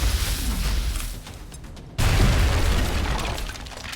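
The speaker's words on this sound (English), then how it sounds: "Grenade out." Grenade explosion in XCOM: Enemy Unknown Long War, a loud sudden boom that cuts in abruptly and rumbles on with debris-like crackle, following a quieter stretch of battle ambience.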